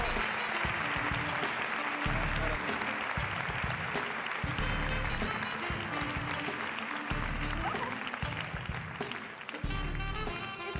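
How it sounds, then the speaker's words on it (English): Steady, full applause from a large audience at an opening ceremony, sustained throughout at moderate level with a few faint voices underneath. "Please give them a round of applause."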